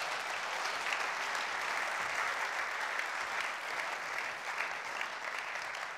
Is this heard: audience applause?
yes